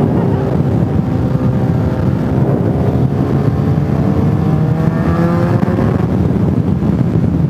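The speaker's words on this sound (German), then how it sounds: "Ich höre sogar meinen Auspuff" A BMW motorcycle exhaust drones steadily while riding at a tuning meet, with rising and falling engine harmonics under loud, constant wind rush.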